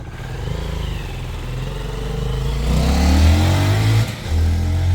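A Honda motorcycle engine with a stock carburetor idles steadily right after starting, then revs up into a louder, rising roar with a brief dip before climbing again, close and alone.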